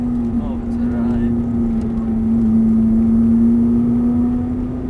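Car engine pulling on a racetrack during a driving day lesson, a steady droning note that rises slightly as power comes on, loud and close, running throughout with no talk.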